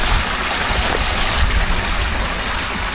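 A large river near a village outside Bekasi rushes past in a broad, steady roar of flowing water, loud and close throughout, with no voices heard.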